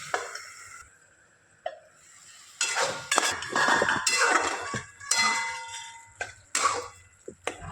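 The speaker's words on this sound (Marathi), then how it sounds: "आता याच्यावर आपण थोडंसं झाकण ठेवू" A lid set onto a pan of cooking tomato chutney, heard as metallic clinks and clanks of the lid and pan in a home kitchen, several close knocks spread over a few seconds with brief pauses between them.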